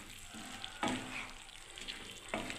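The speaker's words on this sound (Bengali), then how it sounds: "এখন কষতে দিয়েছি, একটু হোক বন্ধুরা।" Ridge gourd, potato and poppy seed curry sautés in a pan with a soft, continuous sizzle, broken by a couple of louder stirring scrapes spaced a second or so apart.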